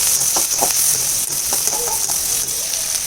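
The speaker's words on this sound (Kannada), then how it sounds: "ಈರುಳ್ಳಿ ಫ್ರೈ ಆದಮೇಲೆ ಕ್ಯಾಪ್ಸಿಕಮ್ ಹಾಕ್ಕೊಂಡು ಬಾಡಿಸಿ, ಅದು ಸ್ವಲ್ಪ ಫ್ರೈ ಆಗಿ" Onions and capsicum frying in a pan for vangibath, with a bright, continuous sizzle and scattered clicks and scrapes of stirring, loud and close throughout, with no one talking.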